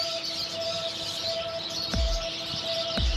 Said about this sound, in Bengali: পাখিগুলো সারাদিন কিচিরমিচি করতেই থাকে